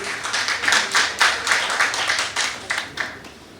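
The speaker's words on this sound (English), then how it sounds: "Please give a warm round of applause once again for Kathleen." A small audience at a World Tourism Day event gives a brisk round of applause, a dense patter of clapping that swells and then thins out toward the end.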